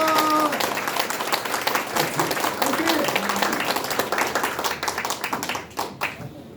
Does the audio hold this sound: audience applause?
yes